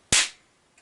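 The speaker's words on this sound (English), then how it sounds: "We'll see if we can get this cap to ignite" A percussion cap clamped in a vise and struck with a hammer fires with a single sharp, loud snap that decays quickly, followed by a faint click.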